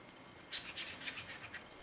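An ink blending tool rubs ink onto the sanded edges of a paper card, a soft close swishing in several quick brushing strokes over about a second, faint and without voices.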